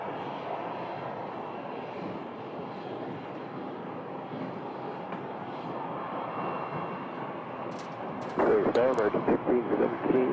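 A Southwest airliner taxiing at Phoenix Sky Harbor Airport gives off a faint, steady jet engine rumble and whine, heard from a distance, with louder clattering and wind noise breaking in near the end.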